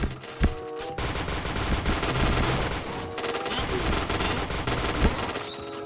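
Sustained automatic gunfire in the Point Blank shooter game on the Safe House bomb map, loud and dense with rapid bursts over a steady game background, close and continuous throughout with no talk.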